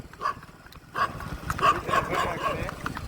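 Dogs bark in short bursts, a few sharp barks near the start and a cluster later, mid-distance, mixed with outdoor voices.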